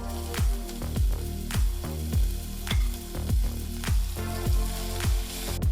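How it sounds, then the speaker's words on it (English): Green chilies dropped into hot oil with cumin seeds that are already fried, for a samosa filling, give a loud, steady sizzle broken by regular stirring strokes about twice a second, with no talking. "Now that the jeera is fried well, adding some green chilies to it."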